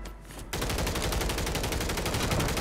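Automatic gunfire in the Warzone video game bursts in after a brief quiet start, then runs as a steady, fast stream of close, loud shots without pause.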